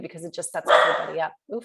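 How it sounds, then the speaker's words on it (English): A dog barks in a short burst of yips and woofs close by indoors, mixed in with a person talking, then a brief pause and another voice. "sorry about the dog"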